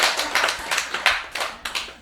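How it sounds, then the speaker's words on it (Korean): Sparse hand clapping from a small lecture audience, a handful of separate claps and short bursts spread unevenly over two seconds, fairly close and with no voices. "박수 열심히 쳐보세요."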